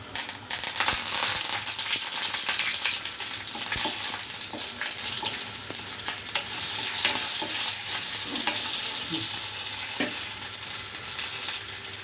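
Curry leaves dropped into hot oil for a village-style tomato roti chutney, a loud, continuous crackling sizzle with stirring scrapes close by, no talking.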